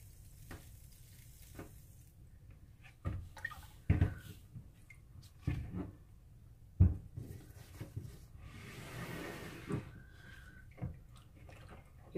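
A silicone spatula stirs lye slowly into water while a small batch of lye solution for cold process soap is made, giving close, steady swishing with a few sharp clunks against the container and a faint fizzing hiss.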